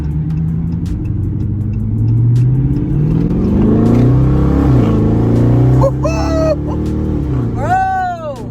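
A Dodge Charger R/T fitted with a K&N high-flow air filter revs hard on the street in regular mode, its loud engine note rising and falling through several throttle blips, with brief high squeals near the end.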